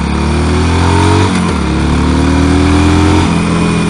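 A 2005 Harley-Davidson Sportster 1200C rides along a road, its loud steady engine drone close to the listener, with a brief dip in pitch mid-ride before the rumble climbs again.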